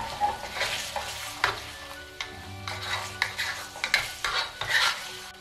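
Chopped garlic is stirred into a sizzling jjamppong stir-fry, close and lively, with repeated scraping strokes of a utensil against the pan over continuous frying crackle.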